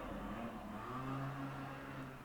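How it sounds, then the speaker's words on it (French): A motorbike passes outside in a steady, continuous engine drone with a low hum that rises and holds, heard from indoors at moderate level with no talk over it. "Oh là là, la moto, j'en peux plus."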